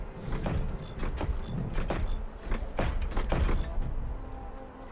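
A robotic machine creature in Horizon Forbidden West clanks and whirs with mechanical creaks and grinding servo sounds, a string of metallic jolts at moderate distance with no talking.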